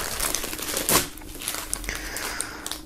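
Plastic film crinkles and tears as it is peeled off a boxed music bundle's shirt and album, close and fairly loud, with a sharp rip near the start followed by steady rustling.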